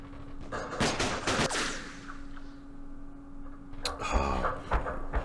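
Sniper gunfire in the Vietnam War strategy game Campaign Series Vietnam, set at the 1968 Battle of Tan An: a few sharp cracks near the start and again near the end, over a steady low game hum.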